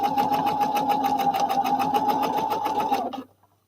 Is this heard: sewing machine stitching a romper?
yes